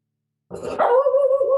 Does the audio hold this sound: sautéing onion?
no